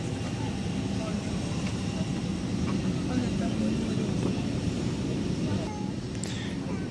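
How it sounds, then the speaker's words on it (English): Steady engine roar and broadband cabin hum inside an Airbus A321neo airliner in the front seating area, continuous and even throughout without talk. "this is on the Airbus A321neo, brand new plane, so let's get going"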